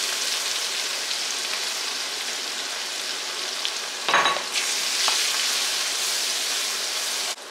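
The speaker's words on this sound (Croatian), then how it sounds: "sad ću na ostatku ovoga ulja dodati 2 glavice crvenog luka" Two red onions sizzling and frying in leftover oil with sweet paprika and bay leaves, a steady close crackle that briefly dips as it is stirred, then keeps sizzling on its own.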